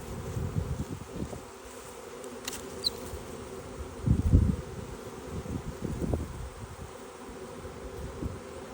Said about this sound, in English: There's bees up here and they're fanning